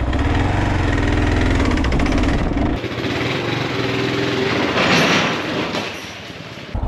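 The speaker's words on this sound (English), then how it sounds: "Now, I think it's because the engine's not rolling over fast enough." A Ford truck engine cranks too slowly and fails to start: a loud, close, rhythmic churning from the starter, which shifts to a rougher whirring partway through and then drops off near the end.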